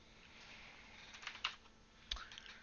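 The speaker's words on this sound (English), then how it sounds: "which you can just do by typing cmd down here in the run box" Keys clack on a computer keyboard at a Windows PC, a short quiet burst of typing with a few sharper strokes, no voices.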